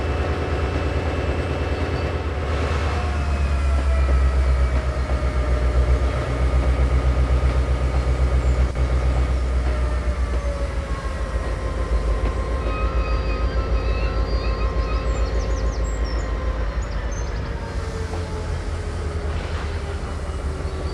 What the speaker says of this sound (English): we've taken up the whole track, stopping, uncoupling the automatic coupler.